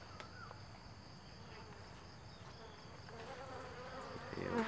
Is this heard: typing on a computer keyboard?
no